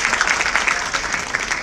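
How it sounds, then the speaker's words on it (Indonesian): Brief burst of audience applause at a business and marketing seminar, close and fairly loud, with individual claps standing out in an even, continuous patter. "Jadi tepuk tangan sekali lagi buat Mas Rizky"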